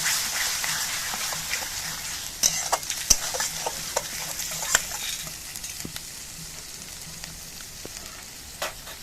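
Spice paste with ground cumin fries in a pan for doi katla, a steady hissing sizzle broken by sharp clicks and scrapes of a spoon stirring, close and fairly loud.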